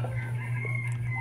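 Chickens cluck and a rooster crows close by in a farmyard, loud and continuous over a steady low hum, with no talk.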